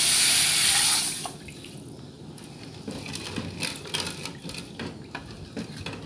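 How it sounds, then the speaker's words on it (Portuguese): Water pours into a cooking pot over lightly sautéed rice, starting as a loud rushing stream that drops after about a second into a softer, steady trickle and sizzle with small splashes and clinks. "Vamos colocar água,"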